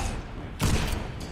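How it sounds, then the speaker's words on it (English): A single heavy shotgun blast from a video game fires partway through, a sharp broadband boom with a short decaying tail, followed by a fainter second impact near the end over a steady low background. "shotgun."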